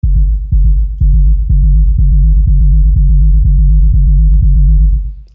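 A techno rumble kick made in FL Studio thumps about twice per second in a steady loop, each hit a sharp click followed by a thick, droning low bass tail that fills the gaps.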